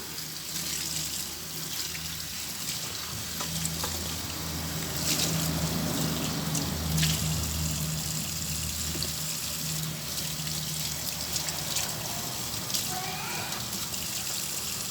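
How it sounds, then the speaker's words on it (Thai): Tap water runs and gushes steadily into a sink while a greasy plastic container is rinsed, with sloshing and splashing surges up close over the running stream. "เดี๋ยวล้างน้ำ"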